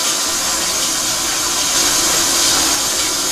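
Dirty, sediment-laden water drains from a hot water heater tank, a steady loud rushing hiss of flowing water with no talk.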